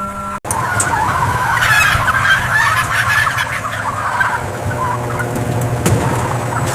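Turkeys at a large turkey farm give a dense, continuous chorus of overlapping gobbles and calls, loud and close, over a steady mechanical rumble from harvesting machinery.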